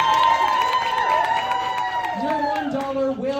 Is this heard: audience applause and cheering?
yes